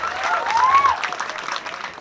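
An audience at a Balinese Calonarang performance applauds in a short burst of crowd clapping, with a voice faintly audible over it.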